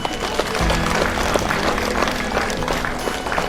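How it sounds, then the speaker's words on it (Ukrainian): An audience at an Odesa charity event claps steadily as a dense, even patter of many hands that holds at a fairly loud level throughout, with a low steady hum beneath it. "Тож прошу ваші аплодисменти."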